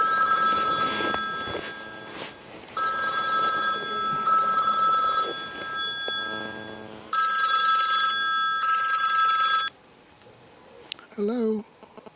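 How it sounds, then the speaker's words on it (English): A mobile phone ringtone sounds outdoors on a countryside path, a repeating electronic ring in loud bursts with brief gaps, close by, before it stops and a short rustle follows. "And oh, there's my phone. Now, can I answer it before it cuts out?"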